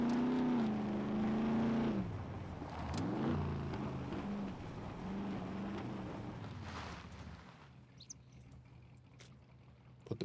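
Car in the game SCUM driving along, a loud engine drone with rising and falling pitch that cuts out after a few seconds and leaves a faint hum with small clicks.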